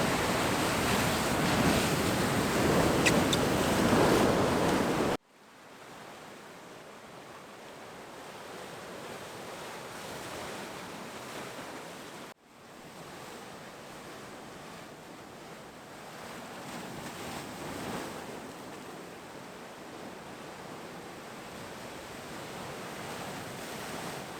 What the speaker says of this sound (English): There was still enough light to capture the energy of the waves crashing on the rocks